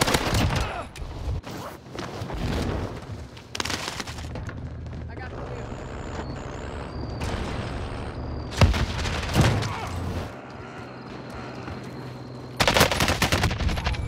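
An MWAK assault rifle fires in Call of Duty, with sharp bursts of automatic gunfire in several separate volleys and quieter stretches between them. A voice talks over parts of it.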